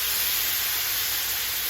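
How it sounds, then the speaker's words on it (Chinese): Boiling water poured around the edge of a hot pan of frying buns, a steady loud hiss and sizzle throughout, ending with a small clatter. "沿着锅边往里面淋入适量的开水，水的量没过生胚的1/3就可以了"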